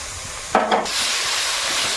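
Mustard and poppy seed paste is added to a pan of cooking parshe fish, a brief wet sizzle flaring up over a steady frying hiss that continues afterward.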